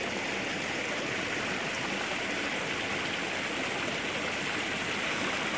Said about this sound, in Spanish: hemos llegado aquí a una especie de compuerta que deja pasar una parte del agua, pero embalsa la otra.